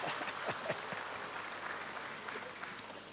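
Audience applause at a school anniversary and graduation celebration, a faint, steady patter of many hands clapping from a distance.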